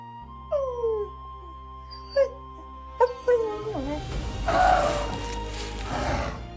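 Wild dogs attacking elephants on the savanna let out several sharp yips, whimpers and drawn-out howling cries in quick succession, close and clear, followed by a noisy rustling scuffle.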